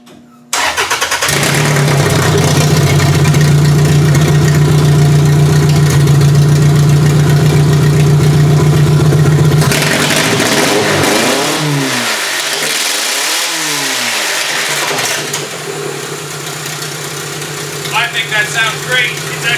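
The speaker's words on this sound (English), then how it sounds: "Let's start it up and see how it sounds with the header on." A 1999 Toyota Camry demolition derby car with a newly installed header cranks and fires up, settling into a loud, steady idle before several sharp revs rise and fall. It stays close and loud throughout, with no voices.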